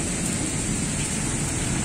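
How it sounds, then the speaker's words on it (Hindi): Steady rain pours down, a dense continuous hiss with a low rumble underneath, constant and fairly close throughout. "बाहर हो रही है बारिश"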